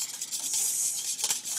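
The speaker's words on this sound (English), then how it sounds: "then we're going to whisk it until the egg" Batter being whisked for breakfast crepes after an egg goes in, a steady hissing scrape of the whisk against the bowl running the whole time, close and fairly quiet, with no talking.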